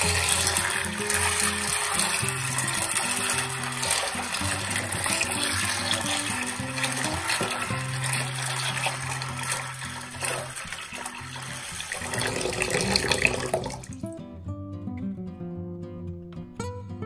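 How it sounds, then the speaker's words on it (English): Water pours from a tap into a container of black beans, a steady rushing splash that fills the air for about fourteen seconds, then cuts off to quiet drips and trickles. "Distribute to get an even layer at the bottom and then add water."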